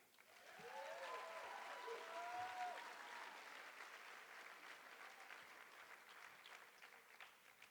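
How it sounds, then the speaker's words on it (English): Audience applause rises at an awards show, the ESPYs, swelling within a second into a broad steady wash of clapping that tapers slightly and carries on, with a few faint vocal tones near the start. "How about a round of applause for Slade and Sam?"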